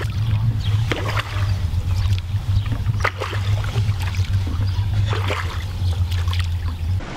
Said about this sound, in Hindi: Let's go now, will take shikara ride.